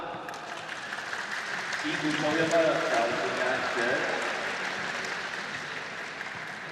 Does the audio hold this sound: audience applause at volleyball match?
yes